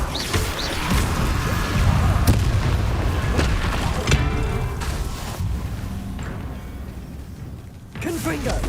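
A Confringo blasting spell goes off in Hogwarts Legacy, loud booming impacts amid crashing combat noise and repeated blasts, with voices talking in the background.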